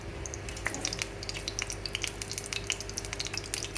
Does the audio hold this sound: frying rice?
yes